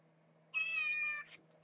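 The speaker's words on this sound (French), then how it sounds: "Le chat." A single clear cat meow, drawn out for about a second and ending in a short upward chirp, close by in a quiet room with a low hum.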